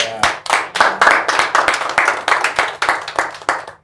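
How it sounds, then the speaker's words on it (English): A television studio audience of young people and friends claps steadily, a dense run of individual claps that rises and falls over several seconds, close and lively, with no voices over it. "you can hear the applause in the studio"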